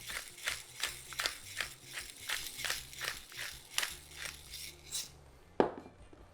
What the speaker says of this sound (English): We're gonna hit it with some nice cracked pepper.